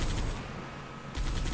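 Sustained gunfire in Halo 3: ODST during a coastal highway vehicle section, a continuous rattling volley that dips slightly in the middle, then swells with sharper repeated bursts, loud and close throughout.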